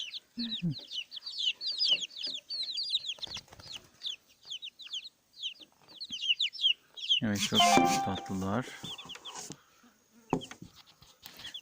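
Small bantam Cochin chickens cluck and chirp in quick, high bursts throughout, with a louder squawking flurry midway; a voice speaks briefly near the end.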